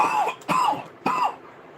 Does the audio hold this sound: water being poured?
no